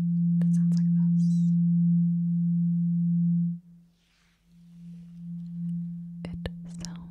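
A purple tuning fork tuned to 172.06 hertz rings as a low, steady hum that sustains, briefly dips, then continues faintly. Soft taps and handling noises sit at the start and end.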